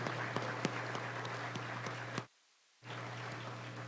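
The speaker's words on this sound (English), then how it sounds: "big round of applause for" Hall of fame induction audience gives its committee a round of applause, a faint, distant patter of clapping over steady room hum, cut off by a brief silent gap before the hum returns.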